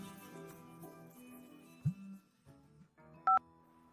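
Brief telephone keypad tones, a short electronic beep pair standing out near the end over quiet background music in a drama scene.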